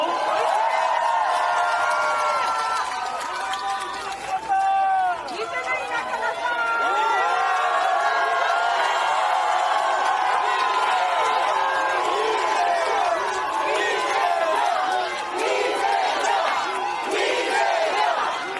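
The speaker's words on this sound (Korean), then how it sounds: "박수로 맞아주십시오" A large crowd at an outdoor political rally at Daegu Station cheers and shouts continuously. Loud, dense voices and whoops overlap with no pauses throughout.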